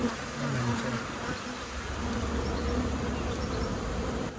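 Honey bees buzzing around their hive outdoors, a soft continuous drone of many insects with individual bees passing closer now and then, faint and steady throughout.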